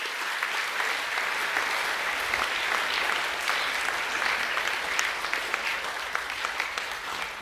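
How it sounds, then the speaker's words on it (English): Boys at a junior academic awards school assembly give the families a round of applause, a steady, fairly distant patter of many hands clapping throughout, without a clear ending. "Boys, can we give all the families a round of applause, please?"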